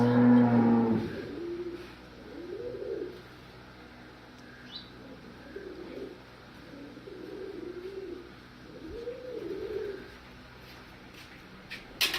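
Several low moos from a Cholistani cross cow in Pakistan repeat at a steady pace over a quiet outdoor background, with faint pigeon cooing in the distance.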